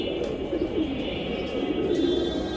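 Pigeons of mixed breeds (silver Giribaz, Bezi, Chila, Jummon) coo softly and steadily among caged birds, a low continuous murmur with faint background noise and no talk.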